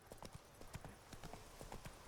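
Hooves of a galloping horse in The Witcher 3 video game clip-clop in a quick, steady rhythm, close and fairly quiet.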